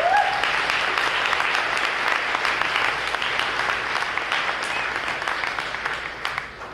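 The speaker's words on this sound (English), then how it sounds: "Can we give all these people a round of applause?" Audience members at a talk about open source infrastructure give a round of applause: a thick, continuous roar of many hands clapping, loud from the start and easing slightly toward the end.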